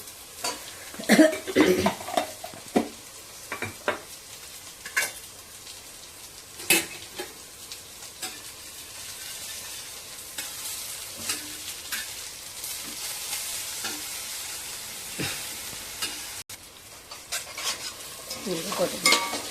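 Ginger garlic paste frying in a pan, with a steady sizzle under repeated scraping and clinking stirring strokes from a utensil, close by and fairly quiet.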